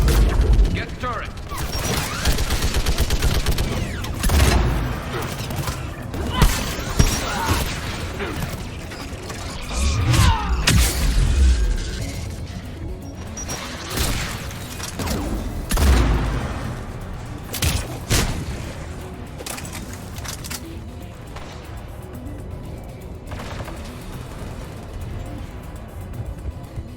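Turret gunfire in a video game: repeated heavy mechanical bursts and booms at irregular intervals, with clanking machinery and game effects, voices talking intermittently over the action.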